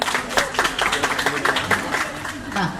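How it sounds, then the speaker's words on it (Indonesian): A stand-up comedy audience at Universitas Jember claps in a burst of scattered applause, fairly close, with a voice speaking over it. "Tepuk tangan dari Banyuwangi."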